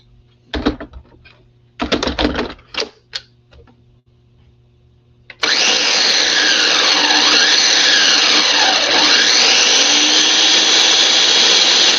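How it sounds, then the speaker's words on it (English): Several quick ticking bursts of an ingredient being pulsed, then a kitchen blender roars on loud and steady, whirring pesto until it is smooth. "blender to get that nice pesto texture."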